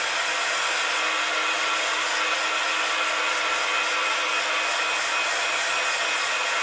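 A hair dryer blows steadily and loudly at close range while drying glue and paint on a revamped project life card craft, a constant airy whoosh with no talking.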